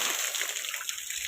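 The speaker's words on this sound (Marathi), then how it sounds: "आता बघा मम्मी मारते घराला पाणी." Water is sprayed onto the walls and roof slab of a house under construction, wetting the loft and the bathroom slab, making a steady, close splashing hiss that continues without a break.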